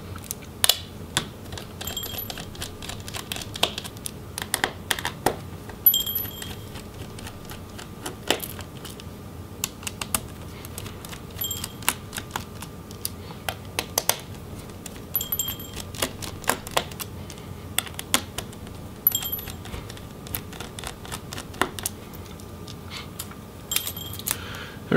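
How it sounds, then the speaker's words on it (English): Small screws being backed out of the battery of a Lenovo X1 Carbon 7th Gen laptop, a quiet scatter of faint ticks and clicks from a screwdriver, irregular and close, with no talking. "we'll go ahead and remove those battery screws"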